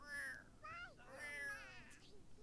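A cat meows in a god-simulation video game, a few short, plaintive calls in quick succession, faint and close against quiet background hiss.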